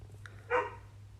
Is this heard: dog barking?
yes